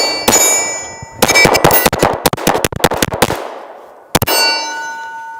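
Glock 43x pistol fired at steel targets on an outdoor range: a rapid string of loud, sharp shots, each followed by a bright metallic ring, a pause, then two more shots with long ringing decay.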